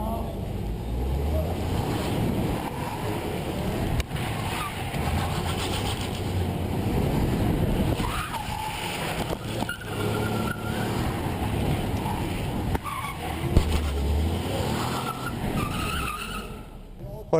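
Rally car driven hard through tight hairpins with handbrake turns, a continuous engine roar mixed with tyre scrabble and skidding, rising and falling with each bend, close and loud throughout.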